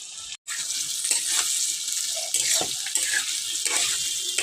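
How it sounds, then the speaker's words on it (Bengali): Boiled potatoes and onions fry in a pan, giving a steady, fairly quiet hiss of sizzling oil with occasional soft stirring scrapes after a brief gap at the start. "সেদ্ধ করা আলু যে রেখেছিলাম সেই আলুটাকে আমি এখন ভেজে নেব"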